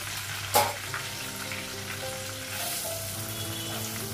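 Green chillies and dried red chillies sizzle steadily in a pan of hot oil, with a sharp burst early on and a constant frying hiss afterward, no voices.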